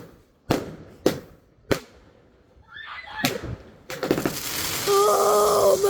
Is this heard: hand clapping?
no